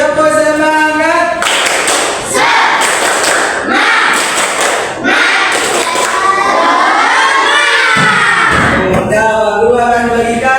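Students in a classroom perform a rhythmic spirit clap chant, bursts of loud group clapping alternating with chanted voices, with a teacher's voice leading between the clap sequences.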